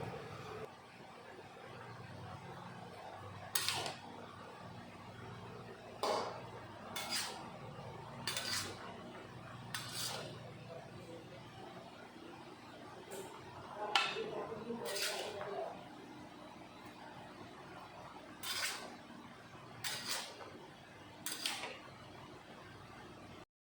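Lau chingri, bottle gourd cooked with shrimp, stirred in a pan, with a faint, steady background of cooking and spaced bursts of utensil scraping against the pan, quiet and close.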